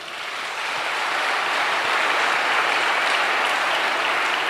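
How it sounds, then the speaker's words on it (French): A church congregation applauds during a sermon, producing a dense, sustained wash of clapping that builds at the start and holds steady, heard from a distance without any voices. "Acclamons le Seigneur."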